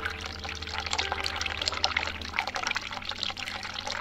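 Hot water runs steadily from a tap in the video game The Cat Lady, a close, continuous splashing pour with a low hum underneath and no talking.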